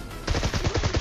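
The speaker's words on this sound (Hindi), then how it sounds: "ये होती है अंधी फायरिंग।" Blind automatic gunfire in PUBG Mobile sounds as a quick, loud, close burst of about eight evenly spaced shots lasting around a second.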